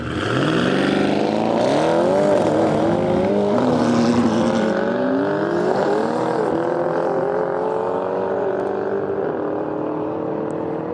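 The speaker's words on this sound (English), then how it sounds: "So we have a McLaren 600 LT going against what I think is an E63." A McLaren 600LT and a Mercedes E63S race side by side at a drag event, their engines roaring loud and close with rising, shifting revs as they accelerate down the strip.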